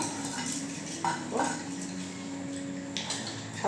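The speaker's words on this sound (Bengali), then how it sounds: "আমি চালটা হাঁড়িতে দিয়ে দিই" Rice is tipped into a cooking pot, giving a few light rattling and scraping clatters over a steady low background hum, with no voices.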